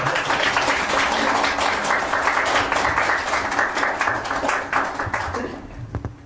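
Applause from a seminar audience after a young presenter's talk at a youth seminar on the Park Chung-hee era: a dense, steady wash of many hands clapping for about six seconds, thinning out near the end.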